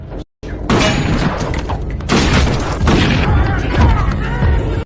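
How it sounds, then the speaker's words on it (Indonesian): Gunfire in a crime film scene, loud and continuous with booming shots and impacts layered under dramatic music and effects, after a brief silent gap at the start. "kemesraan itu langsung terhenti saat James secara spontan menembakkan senjata apinya"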